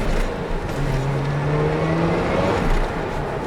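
A Mazda RX-7 Type R Bathurst R engine runs with a steady, loud rotary drone, its pitch rising gradually as revs climb, heard close and continuous without talk.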